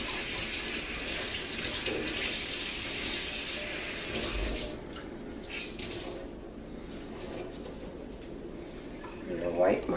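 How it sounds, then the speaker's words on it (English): Water runs steadily from a kitchen faucet during handwashing, a loud close rush for about four and a half seconds before it shuts off, leaving quieter counter clatter and a brief knock at the end. "I need to wash my hands now."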